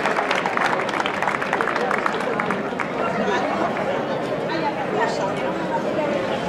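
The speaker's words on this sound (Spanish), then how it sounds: "Un aplauso para Pepe." Audience applause for Pepe, the snare drummer of a dulzaina folk group from Castrocalbón at a León dulzaineros gathering, steady clapping mixed with crowd chatter throughout.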